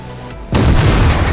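A tank's ammo rack detonating in World of Tanks, a sudden deep boom that bursts in and rumbles on heavily for the rest of the moment, loud and close.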